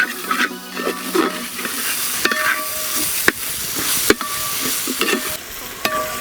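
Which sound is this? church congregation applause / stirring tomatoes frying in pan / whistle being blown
stirring tomatoes frying in pan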